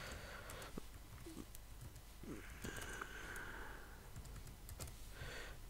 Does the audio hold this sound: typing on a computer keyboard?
yes